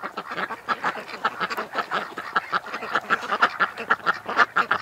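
A flock of ducks quacks steadily and loudly up close, with rapid overlapping calls carrying on throughout and no other sounds.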